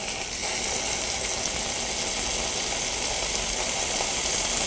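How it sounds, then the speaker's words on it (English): Tuscan meatloaf browning in butter in a pan, heard as a dense, even, close hiss of frying fat that holds steady for the whole stretch without talk. "So we're continuing our browning here."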